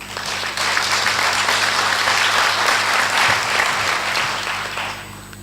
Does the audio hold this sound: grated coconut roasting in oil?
no